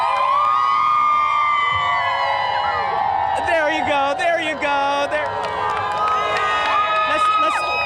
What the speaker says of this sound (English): Can we get a little cheer here,